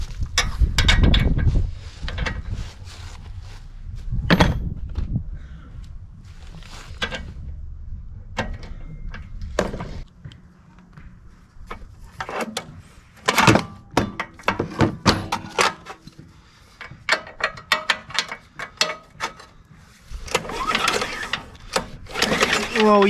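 An abused snowblower being pulled apart by hand, with irregular metallic clanks, ratcheting clicks and thunks in bursts separated by quieter stretches, plus occasional voice.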